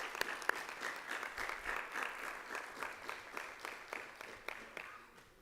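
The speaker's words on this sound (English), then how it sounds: "Give a round of applause." Audience applause at a school board meeting, steady clapping from a moderate-sized crowd held over several seconds with individual sharp claps standing out, fading slightly at the end.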